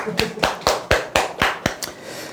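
Several distinct hand claps in a steady rhythm, about eight sharp, close claps from a small group in an indoor studio setting, fairly loud and clean with little else around them.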